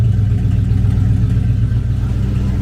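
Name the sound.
Dodge Daytona Charger big block engine exhaust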